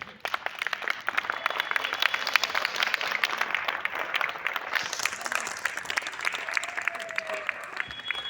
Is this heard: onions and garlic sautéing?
no